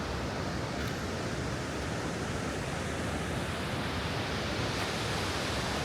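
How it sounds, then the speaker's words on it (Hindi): Steady, loud broadband roar of a mountain waterfall at Nako in Spiti, Himalayas, rushing continuously with no breaks, heard close up and alone without voices. "यहाँ पे एक सुंदर सा वाटरफॉल भी है"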